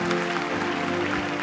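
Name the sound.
audience clapping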